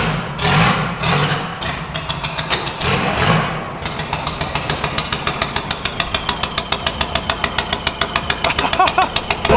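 A stance car's engine running just after starting in an alignment shop, a rough start surge giving way to a steady, rapid rhythmic idle pulse, fairly loud and close with no talk.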